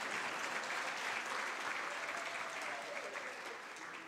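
Audience clapping at a library and information science symposium, a soft, distant wash of hands that holds steady and slowly tapers off, heard faintly.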